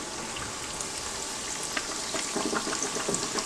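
Breaded buffalo tenderloin pieces frying in hot oil give a steady, loud sizzle, with crackling bursts that grow busier toward the end.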